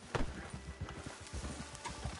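A horse's hooves clip-clop in steady trotting beats, fairly quiet and receding, in the video game Red Dead Redemption 2, with no voices over it.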